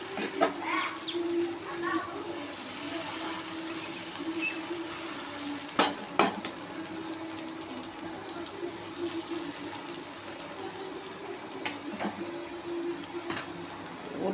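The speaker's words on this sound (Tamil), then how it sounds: "தோசைக்கல் அடுப்பில் வச்சுருக்குறேன் இதில் அப்படியே ஊற்ற வேண்டியது அது கொஞ்சம் எண்ணெய் ஊற்றி வச்சுருக்கேன்" Cauliflower omelette batter cooking on an oiled dosa griddle, a soft, steady sizzle with occasional sharp utensil clicks and scrapes, fairly faint and close, with no talk.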